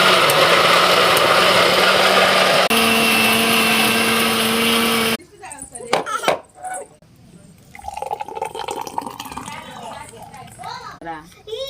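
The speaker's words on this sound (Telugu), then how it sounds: "మళ్ళీ మిక్సీకి అయితే పట్టేసుకున్నాం." Mixer grinder blending guava pieces with milk and sugar, a loud, steady whirring drone for about five seconds that cuts off abruptly, followed by quieter clattering and pouring sounds.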